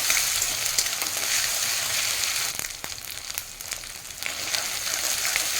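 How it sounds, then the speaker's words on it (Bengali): Ginger garlic paste fries in oil with onions, a soft, steady sizzle and crackle close by, with a couple of light clinks from stirring partway through. "মিনিট 2-3 এটাকেও তেলের সঙ্গে ভেজে নেব।"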